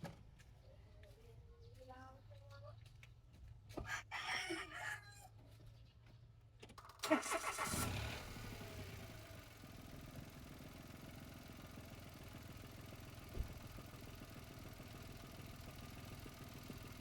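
A 2015 Mitsubishi Mirage engine cranks and catches in a short loud burst after a few quiet sounds, then settles into a steady, fairly quiet idle hum that runs on alone to the end.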